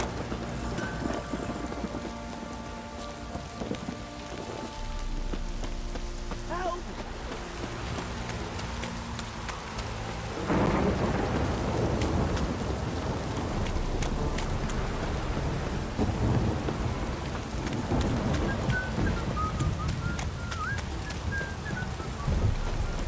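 Steady rain pours in The Witcher 3 video game, with a deep rumble of thunder near the start and the downpour growing louder partway through, heavy and continuous.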